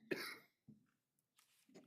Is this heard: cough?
yes